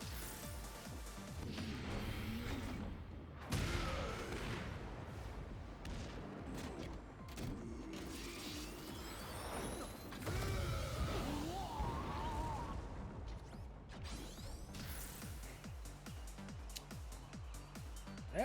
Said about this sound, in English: He basically shoots a proton cannon.